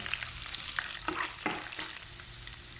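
Garlic and a bay leaf fry in oil for chicken adobo, crackling in a close, busy sizzle broken by repeated scraping stirs against the pan.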